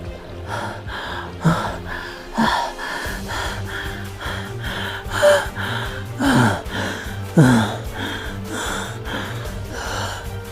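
Heavy, ragged breaths, a man gasping and panting in uneven bursts, close up, with a low droning background underneath.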